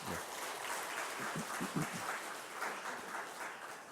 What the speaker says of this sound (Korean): 우리 하나님께 감사의 박수 또 영광의 박수 한번 하면 좋겠습니다.